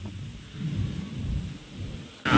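Steady gusting storm wind before heavy monsoon rain in rural Konkan, with low rumbling roar, loud and continuous, ending in a sudden burst of noisier rushing sound.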